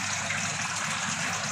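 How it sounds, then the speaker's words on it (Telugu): The water pump of a Crompton Ozone 95 L desert cooler runs, giving a steady, soft gush and trickle of water over the cooling pads, continuous and fairly quiet. "మనం ఓన్లీ పంపే ఆన్ చేసామండి"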